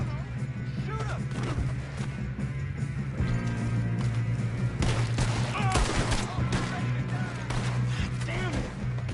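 A battle scene full of heavy gunfire, dense rattling volleys and booming blasts mixed with shouted voices, loud and continuous throughout.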